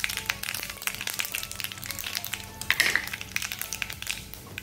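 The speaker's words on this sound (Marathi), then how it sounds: "चणा डाळ फ्राय व्हायला वेळ लागतो" Chana dal, split chickpeas, crackles and sizzles in hot oil in a pan for an Andhra-style raw banana sabji, with dense popping taps and spatters close by, alone without voices.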